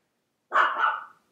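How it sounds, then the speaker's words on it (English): A single dog bark indoors, one loud close woof that fades quickly, alone with no other sound. "Oh, there's my dog barking."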